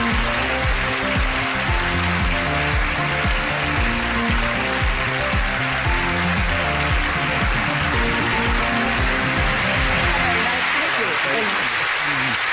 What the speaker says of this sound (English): Please give a round of applause for my next guests, Nick Ward and Peter Crompton.